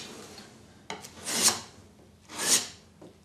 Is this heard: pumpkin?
no